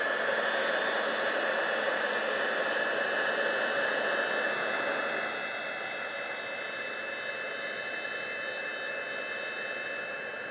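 A heat tool blows hot air onto ink for a black ice stamping technique, giving a loud, steady hiss and whine that drops slightly in level halfway through, with no voices.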